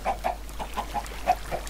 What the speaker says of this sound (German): Da ist ein Huhn hier vorne gefangen.